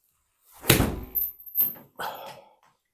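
Golf ball struck with a sand wedge on an indoor home simulator setup, one sharp thudding impact followed by a few softer knocks and bumps, close and alone over near silence.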